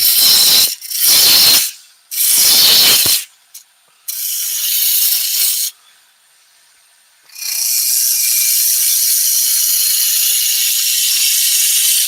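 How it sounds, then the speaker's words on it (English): A roughing gouge cuts a spinning wood blank on a lathe, shaping a vase form: harsh, rattling bursts of cutting noise start and stop with brief gaps, then settle into one long, steady cut, loud and close, with no talk. "I'll use the roughing gouge."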